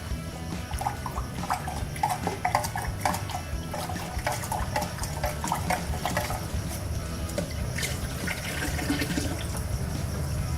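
Hot water pouring steadily into a homebrew pot while brewing a German lager, a continuous close splashing rush that never lets up, with no talk.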